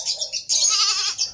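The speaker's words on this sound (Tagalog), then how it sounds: "Napakain ang mga doling niya" Young goats on a farm bleat at feeding time, several close, loud cries in quick succession with one long, strained call in the middle and no talking.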